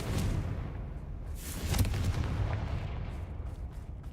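A Confringo explosion spell cast in a video game bursts with a broad, blasting roar that peaks near the middle, over a steady, noisy rumble.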